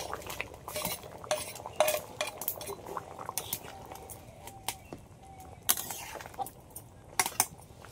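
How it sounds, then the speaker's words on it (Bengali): Fried prawns are stirred into a yam curry in a pan, with a metal spoon scraping and clinking against the pot in irregular bursts and a soft wet churning underneath. "এবার আমি দিয়ে দেবো ভেজে রাখা চিংড়ি মাছ।"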